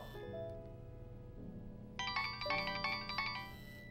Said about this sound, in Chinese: 石简，你电话。